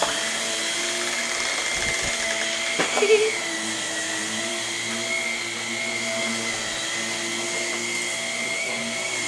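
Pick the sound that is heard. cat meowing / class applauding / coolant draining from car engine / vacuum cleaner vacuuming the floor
vacuum cleaner vacuuming the floor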